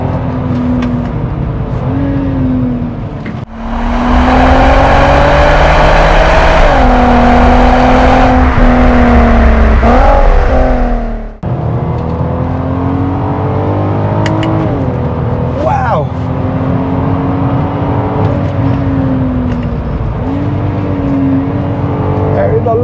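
A Volkswagen Golf R32 Mk4 with a DSG gearbox bogs briefly, then its engine climbs hard toward the redline just over 6,000 RPM, a loud sustained rising howl with a gear change midway, heard from inside the car.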